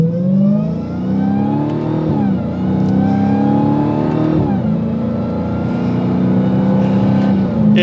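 A 2022 Dodge Challenger SRT Hellcat in sport and manual mode launches hard from a red light, its loud exhaust roaring continuously as it climbs through the revs with quick dips at each gear change, close and alone.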